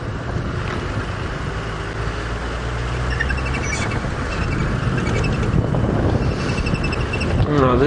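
Wind buffets the microphone with a constant low roar during a morning safari drive near the Sand River, growing slightly stronger toward the end, with faint bird calls in the background.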